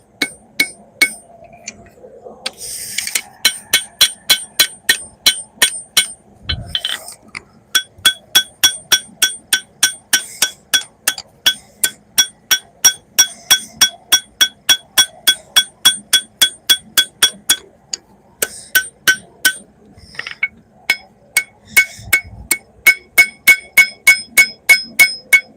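A hammer strikes a sword blade on an anvil during forging, sounding as dozens of sharp ringing metallic blows in a steady rhythm, loud and close, broken by a few short pauses.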